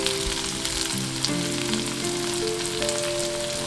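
Grated ginger and mixed vegetables fry and are stirred in a pan for semolina pulao, making a continuous bright sizzle with faint movement, under a steady tonal hum.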